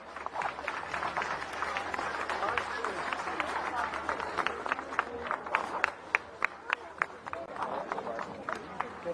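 Audience at a Mother Armenia alliance political rally in Yerevan breaks into sustained applause, a dense wash of clapping with sharper individual claps standing out toward the end, while an announcer speaks over it.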